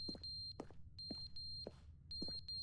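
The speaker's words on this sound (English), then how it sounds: "Well, I'll skip this beeping." A smoke alarm with a low battery in The Stanley Parable video game, giving faint, repeated high electronic beeps in a quick pulsing pattern over a soft background hum.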